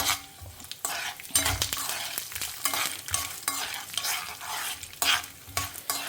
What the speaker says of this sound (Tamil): கடுகு பொரிஞ்சதுக்கப்புறமா எல்லாத்தையுமே ஒன்றா வறுத்துக்க ஆரம்பிக்கலாம்.